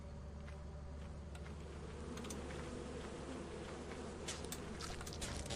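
A swarm of bees buzzes steadily in a Baldur's Gate 3 game scene around a hive, forming a constant dense drone with small clicks and rustles over it, moderately loud and unbroken throughout.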